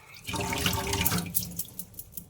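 Water runs steadily from a tap over a stone sil-batta grinder being washed, a continuous close splashing rush that thins into scattered drips and splashes toward the end.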